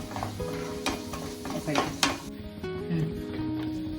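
Ingredients fry in a pan for rava laddu (thariyunda), a moderate sizzle under clinks of a utensil against the pan and some light kitchen clatter.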